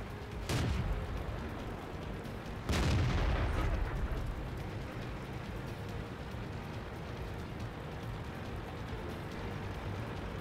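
A StuG tank destroyer with a 105mm gun fires in the World of Tanks video game: two heavy booming shots about two seconds apart, followed by a steady rumbling battle ambience.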